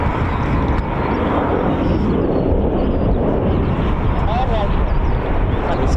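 German Air Force Eurofighter Typhoon jets taxi during a military air exercise at an RAF airbase, a steady, roaring jet rumble at moderate distance, broad and continuous, with some wind buffeting.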